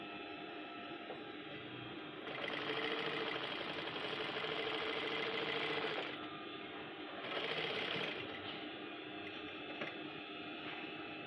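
A sewing machine stitching a men's trouser waistband runs in a steady, continuous whir, getting louder and faster during two longer bursts before easing back to a lower hum.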